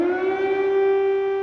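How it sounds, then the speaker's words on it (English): An air raid siren sounds in Kyiv during the Ukraine invasion, a single sustained mournful tone holding steady and fairly loud, with no voices over it. "These days, air raid sirens form part of the morning routine."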